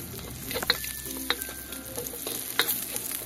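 Garlic and ginger frying in a hot pan for beef pares, a soft even sizzle broken by several sharp spatula scrapes and clinks against the pan.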